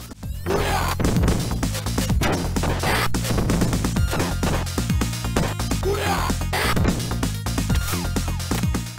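Dense, busy audio from the cartridge version of Streets of Rage with repeated punchy hits and short sampled fighter grunts over a steady bass-heavy music loop, loud and continuous throughout.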